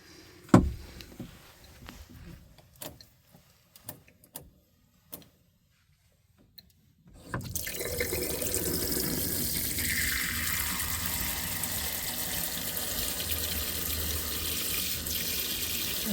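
Water gushes steadily from a shower wand inside a Class B RV being winterized, preceded by a few clicks and knocks; the rush starts abruptly and continues loud and even, close by.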